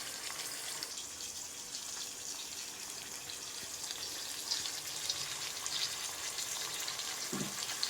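Chicken liver fries in a pan in a home kitchen, a faint steady sizzle with crackling bursts toward the end and no talking.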